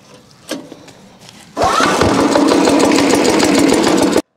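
A Takyo TK65 gasoline wood chipper engine is pull-started: a brief rope-pull rasp, then the engine catches and runs loud and steady for a few seconds before cutting off abruptly.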